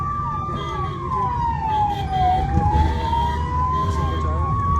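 A pink ambulance carrying a woman to hospital sounds its siren, a loud continuous wail that sweeps down and back up in pitch over steady road and engine rumble.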